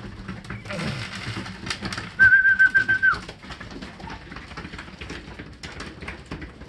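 Racing pigeons at the loft as a blue bar hen arrives home, with wing flutters and soft coos over background chatter, plus a sharp burst of rapid clattering flaps and a brief whistle in the middle.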